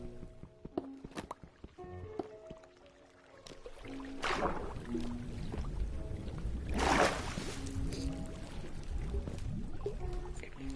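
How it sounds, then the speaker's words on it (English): A bucket scooping water in Minecraft: a splashy liquid slosh rises around the middle and a second louder splash follows, under soft game sounds with occasional chimes and steps. "Probably bucket up that water so he can get out and just have a bucket of water in case"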